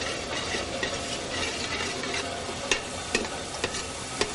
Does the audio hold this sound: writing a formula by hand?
no